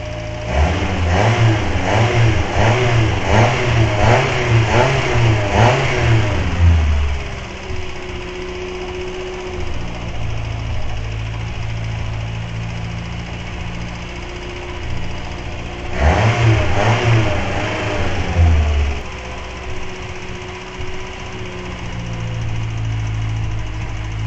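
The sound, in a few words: car engine revving while cleaning product is injected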